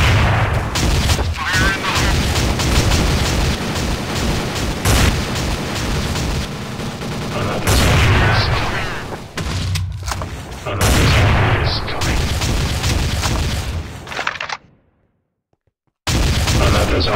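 Repeated heavy blasts of grenade explosions and gunfire in a Minecraft shooter game, loud and dense across most of the stretch, with booming impacts, a brief near-silent gap, then the noise resuming.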